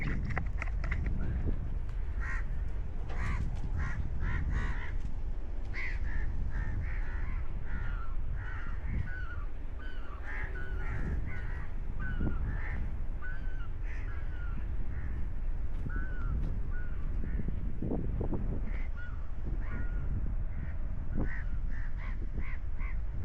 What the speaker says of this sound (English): God knows how many birds